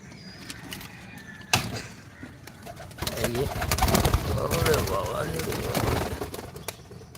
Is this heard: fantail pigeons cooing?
yes